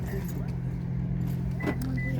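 Car keys jangle briefly inside a car, a light metallic rattle heard close over a steady low vehicle hum, with a voice talking.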